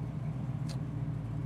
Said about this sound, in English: The car does have a little bit of a rumble to it. It is a big block with large pipes, so it's got a good sound to it.